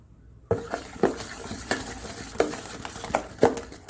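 A spoon clinks against a bowl while stirring spinach, gram flour and asafoetida together, with about seven sharp, fairly evenly spaced taps over a soft scraping mix, close by and with no talking.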